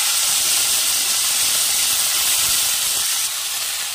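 Chopped, washed vegetables hit hot oil already seasoned with nigella seeds, giving a loud, steady, close sizzle that hisses on without a break and eases slightly near the end; no talking.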